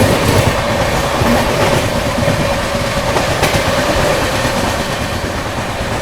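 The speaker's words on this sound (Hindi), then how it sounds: "फिलहाल हम लोगों ने संगम एक्सप्रेस को ओवरटेक कर दिया" Loud, steady rumble and rhythmic clatter of the Suhaildev Superfast Express running at speed, heard from inside a First AC coach while overtaking the Sangam Express.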